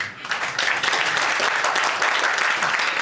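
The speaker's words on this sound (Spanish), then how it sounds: "De un aplauso a mi escudero, hermano." A crowd at a church gathering gives a full round of applause, dense and loud hand clapping that swells quickly and stays even for about three seconds, with no voices over it.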